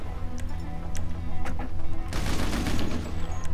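Gunfire breaks out midway through a Grand Theft Auto V team deathmatch, a sudden dense burst of rapid shots that keeps going to the end, after a few faint ticking clicks over a low background hum.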